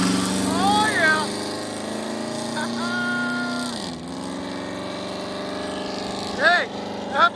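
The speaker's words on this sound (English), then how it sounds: "Silverado. True duals, high flows. It's got a cam in it." Cammed Chevy Silverado 5.7L V8 with long tube headers, true dual exhaust and high-flow mufflers, idling with a lopey rumble and a few sharp revs near the end.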